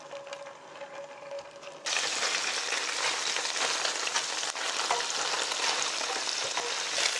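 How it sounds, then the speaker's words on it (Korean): Tofu pan-frying in cooking oil in a preheated frying pan over high heat, a loud, steady, dense sizzle that begins abruptly after a quiet moment and continues without a break. "후라이팬에 식용유를 살짝 두르고요. 살짝 예열한 다음에 두부를 올려서 구워 주겠습니다."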